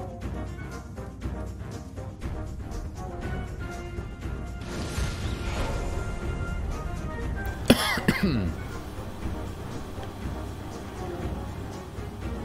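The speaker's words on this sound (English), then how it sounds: "I don't know why I'm coughing so much." A man coughs during a gaming session, with one sharp, loud burst of coughing standing out against steady background sound from the game.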